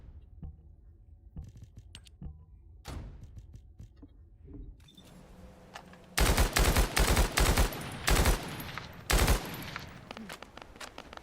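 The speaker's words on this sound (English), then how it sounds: "Semi-automatic shotgun." Semi-automatic shotgun fire in The First Descendant, a quiet stretch of faint clicks and handling, then a loud burst of rapid, evenly spaced blasts, a short pause and a final volley.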